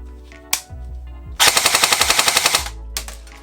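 AGM STG-44 (MP44) airsoft rifle, an upgraded Sturmgewehr 44 replica, fires a fast full-auto burst of about a dozen evenly spaced, loud, close shots lasting roughly a second, with a few isolated clicks before and after.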